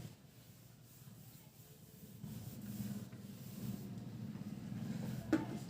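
An eraser rubs out pencil writing on paper during a class 10 statistics lesson on less-than ogives, giving a soft, steady scrubbing that grows slightly louder and continues throughout at close range.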